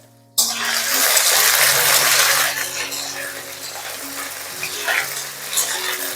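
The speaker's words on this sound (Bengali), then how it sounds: "তো আমি আলুটা 1-2 বার একটু নাড়িয়ে নেব।" Potatoes sizzle loudly in a hot pan as they are stirred, the hiss bursting in at once and then settling into a softer crackle with occasional scrapes.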